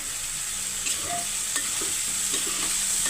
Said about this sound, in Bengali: ঢাকনাটা খুলে একটু হচ্ছে নাড়াচাড়া করে দিব গোশটা